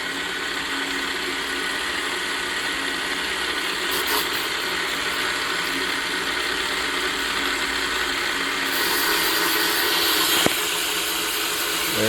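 A boring machine cuts a fresh cylinder sleeve for a blown-up Yamaha YZ250 dirt bike cylinder, a steady mechanical whir and grind running continuously at close range, with a brief sharp click near the end.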